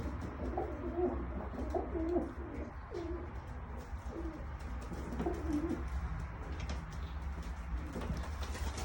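Pigeons coo in a loft with rearing birds, a steady run of soft, throaty bubbling calls repeating close by over a low constant rumble of background noise.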